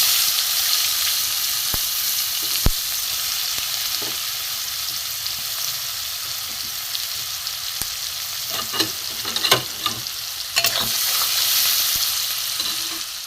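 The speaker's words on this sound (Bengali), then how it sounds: "এখানে কুচনো পেঁয়াজ আছে কুচনো পেঁয়াজ আমি দিয়ে দেবো" Chopped onion sizzling steadily in a hot pan while an egg curry is prepared, with a few sharp stirring clicks and scrapes rising above the continuous frying hiss throughout.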